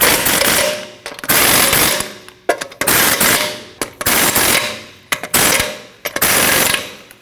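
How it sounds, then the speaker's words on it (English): Impact wrench tightening lug nuts on a Nissan NV2500 front wheel: a loud, close series of rattling pneumatic bursts, about six of them, each roughly a second long with brief gaps between. "Now tighten down all your lug nuts."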